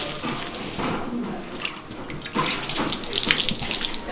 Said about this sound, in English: I try and use nice warm water because I think he would appreciate that.